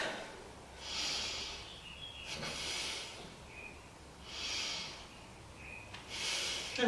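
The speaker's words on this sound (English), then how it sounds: "let's take 3 breaths. Breathe down to the belly" Slow, deep yoga breathing drawn down to the belly, three or four long airy inhales and exhales in an even rhythm, close and soft with no talking.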